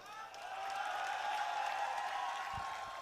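A crowd at a Bharat Jodo Yatra political rally claps and cheers in a sustained wash of applause that swells and holds steady, with a brief low voice near the end.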